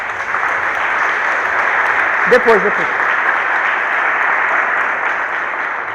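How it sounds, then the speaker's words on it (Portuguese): A church congregation applauds during a sermon, a continuous, even roar of clapping across the room, with one brief spoken word rising over it midway. "Aplaude o Espírito Santo de Deus."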